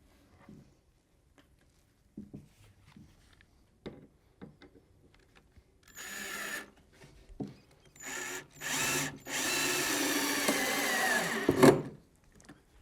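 A power drill drives screws into a wooden farmhouse table in several bursts, a long whirring run followed by shorter ones, after quiet tapping and handling sounds, with no talking.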